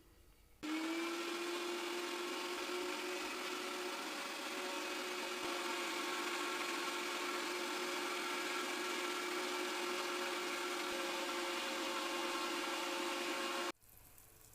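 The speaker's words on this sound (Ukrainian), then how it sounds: "холодну картоплю і сир по черзі перекручуємо на м'ясорубці" A meat grinder with a medium plate runs steadily for about thirteen seconds, mincing cold boiled potato and cheese for varenyky filling; it makes a loud, continuous motor whine and then cuts off abruptly.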